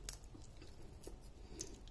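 Crisp homemade snack sweetened with jaggery being bitten and chewed, giving a few soft, close crunches spaced irregularly over low background noise.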